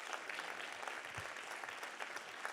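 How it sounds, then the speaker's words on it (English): A gala audience claps steadily in dense, even applause that fills the room, continuous and moderately loud with no voices standing out. "Give them a round of applause."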